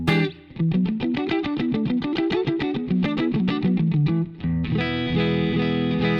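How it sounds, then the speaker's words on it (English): Electric guitar through a Ross compressor on a Line 6 Stadium XL plays a fast, evenly picked run of single notes, then settles into a held, ringing chord, compressed and loud with no talking. "I just put on a Ross compressor."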